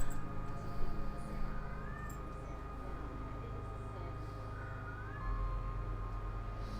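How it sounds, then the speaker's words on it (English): A pet cat meows in the background during relaxed morning coffee chat, its short rising calls standing out faintly from a steady low hum, heard twice across the stretch while the room stays otherwise quiet of speech. "Sorry for the cat talking in the background."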